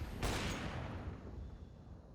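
Gunfire in the video game Counter-Strike during a competitive match, a sharp near burst at the start that fades into a rumbling decay, with no voices.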